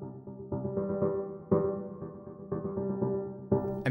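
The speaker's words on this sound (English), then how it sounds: "And then the piano layers sound like this." Piano layers of the Soundpaint Brown Auto-Vari 64 instrument pitch-shifted by a square LFO, a mellow repeating chordal pattern with accents roughly every half second and a stepped shift in pitch partway through.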